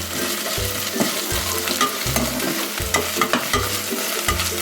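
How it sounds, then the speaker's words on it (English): Chopped tomatoes fry with ginger garlic paste on high heat, a busy sizzle broken by rhythmic scraping of a spoon stirring about once every second, close and loud. "I am going to add tomatoes in it."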